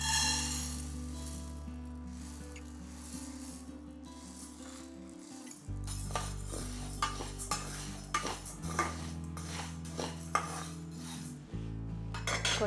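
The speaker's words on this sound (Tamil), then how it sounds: "நம்ம இப்போ ஜவ்வரிசியை நம்ம ஃப்ரை பண்ணிக்கணும்" Sago pearls are dry-roasted in a pan, with a spoon stirring and scraping through them. The clinks and scrapes come in quick, irregular bursts, growing busier partway through over a steady low background tone.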